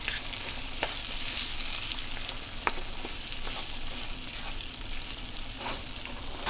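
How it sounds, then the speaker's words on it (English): Potatoes with tomato frying in a pan, a steady dense sizzle with occasional pops and faint stirring scrapes, close and continuous with no talking. "Potatoes take a long time, especially frying potatoes"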